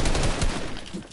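Rapid automatic gunfire from a video game arena shootout, a dense and loud burst of shots packed closely together over about a second.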